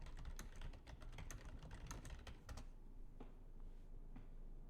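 Quick, quiet clicking of keys on a computer keyboard as a command is typed, a few seconds of close taps that stop, leaving faint room hum.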